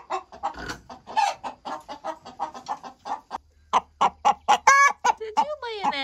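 Several chickens cackle in a rapid, loud chorus of clucks and squawks, building into louder, higher cries toward the end, close by with no talking over them.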